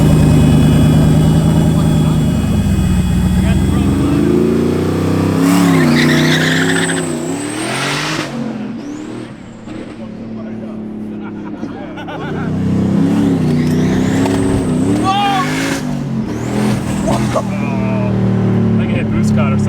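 A 650whp sleeper car launches on a drag run, its engine rumbling loudly nearby, then revving hard through rising sweeps with tire noise and fading off, before a second surge; voices can be heard over parts of it.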